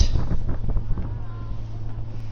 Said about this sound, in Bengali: প্রচন্ড পরিমাণ বাতাস